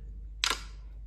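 Samsung phone set to play the iPhone lock and unlock sound, a single short bright click against faint background hiss.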